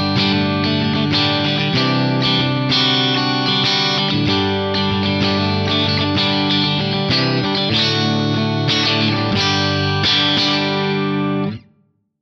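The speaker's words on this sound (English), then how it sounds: "I'm using the Band Commander amp model, set nice and sparkly and clean with some compression and reverb." A clean electric guitar plays a sparkly chordal passage through an Axe FX 3 Band Commander amp model with compression, reverb and dual delay, loud and continuous, ringing out and stopping abruptly near the end.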